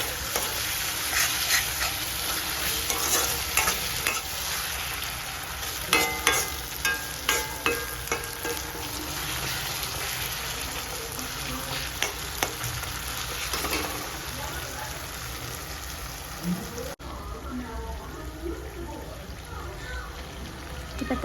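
Tomatoes with salt sautéing in a pan for a spicy prawn gravy, a steady close sizzle with scattered stirring scrapes and clicks throughout, no talking.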